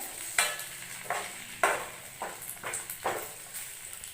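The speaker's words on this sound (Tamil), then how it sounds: "அப்போ தான் உருளைக்கிழங்கு நல்லா ஃப்ரை ஆகும்" Potato pieces frying in a pan, with a soft, constant sizzle broken by regular scraping strokes of a spatula, about one every half second to a second, close and clear.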